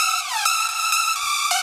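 Third progressive house lead layer, a bright, buzzy synth tone holding notes with a couple of downward pitch slides, even in loudness and heard alone without talk.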